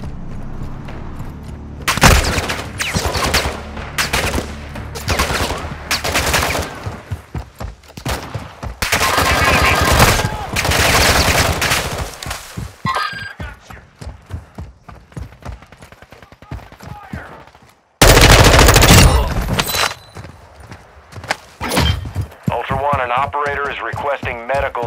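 Heavy gunfire in Call of Duty: Modern Warfare 2, with repeated loud bursts of rifle and machine-gun shots and a dense fusillade, mixed with radio chatter and shouting voices throughout.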